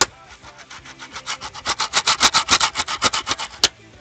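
Cheap, rough skateboard wheels rolling back and forth on a wooden deck, giving a rhythmic series of gritty grinding swells about five per second that build louder then fade, close by with no talking.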